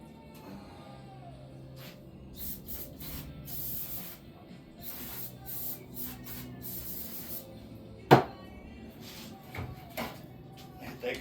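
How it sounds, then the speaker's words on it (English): Several short bursts of carb cleaner spray hiss in quick succession onto the dipstick of a 2014 Polaris Sportsman 570, followed by a sharp knock and a few faint rustles. "So I'm gonna go spray this off real quick."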